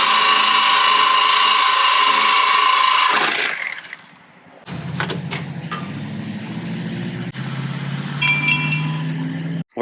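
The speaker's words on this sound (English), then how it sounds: "So that thing's gonna get cut over here and we're back on the road." A power cutting tool slices through a cracked cross member under a Shelby GT350 Mustang, a loud, steady whining cut for about three seconds that then stops, followed by a lower, rumbling mechanical drone.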